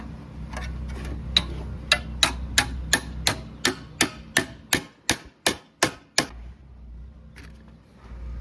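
An air hammer or chisel tool hacks at sheet metal spot welds on a Ford Y-block valve cover, giving a steady series of sharp metallic strikes that grow louder and more forceful, then stop.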